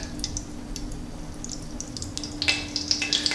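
Hot grease sizzling in a pan for frying Jack Crevalle fish: a soft, steady crackle with a low hum beneath and scattered sharp pops that grow more frequent toward the end, with no voices.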